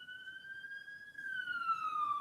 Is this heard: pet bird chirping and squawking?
no